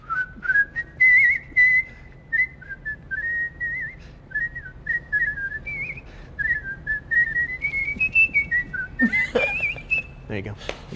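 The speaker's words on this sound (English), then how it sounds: "You're a professional whistler? Whistle me a tune." A person whistles a simple melody, clear and close, with short breaths between phrases and a brief burst of noise near the end.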